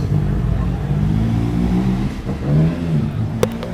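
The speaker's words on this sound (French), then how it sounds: "Ah, elle était belle la moto." A motor vehicle, likely a motorcycle, passes on a road in Réunion, its engine tone rising and then fading as it goes by at moderate distance, with a brief click near the end.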